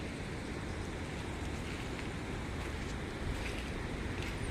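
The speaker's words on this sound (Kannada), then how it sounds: "ನೀರು ಹರಿತಾ ಇದೆ" A steady, broad rush of the Netravati River flowing between stone-built banks fills the scene, continuous and fairly close, with some wind buffeting the microphone.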